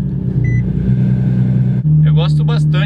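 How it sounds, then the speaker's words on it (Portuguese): Keyless start of a Nissan 370Z Nismo heard from inside the car: a low steady hum shifts abruptly into a firmer idle drone, with a person talking over it afterward. "A chave tá ali, eu vou ligar o carro aqui."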